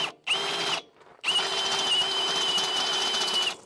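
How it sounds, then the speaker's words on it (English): A power drill with a step drill bit whirs in two bursts: a short run, a brief pause, then a longer steady grinding run as the bit cuts through material. "I got a different size step drill bit."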